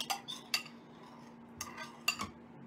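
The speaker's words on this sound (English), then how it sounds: "you're just going to keep mixing so it continues to clump together" Glue mixture for DIY bouncy balls being stirred in a container, scattered light clinks and scrapes of the utensil against the side, a few sharp taps over a faint steady hum.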